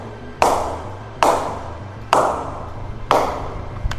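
A cricket ball strikes a Gray Nicolls Kaboom 100 bat four times at even intervals, each a sharp, loud, close wooden knock with a short ringing tail, with no voices.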